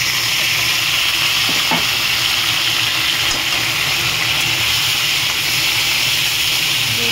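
Tomatoes, ginger and green chillies frying in a pan, giving a constant loud sizzle and hiss with occasional stirring clinks, close and uninterrupted, with no talking.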